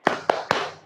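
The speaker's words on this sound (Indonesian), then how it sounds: "Kita beri tepuk hebat dulu untuk kelompok 5 yang sudah presentasi." Three sharp hand claps in quick rhythmic succession from a classroom group doing a 'tepuk hebat' cheer, close and crisp with short room reverb.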